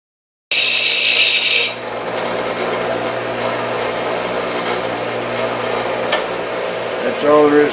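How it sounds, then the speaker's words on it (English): A power tool grinds a plastic piece down flat, starting with a bright, high whine and settling into a steady, continuous grinding drone that lasts several seconds at close range. "So now I want to grind this where it's just a flat piece"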